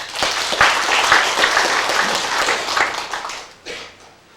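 Warm applause from an audience at a university labor union branch leader inauguration and general meeting, a full steady wash of clapping that tapers off near the end.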